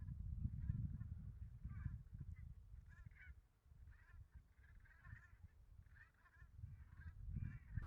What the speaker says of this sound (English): black brent in the UK is considered a subspecies of brent goose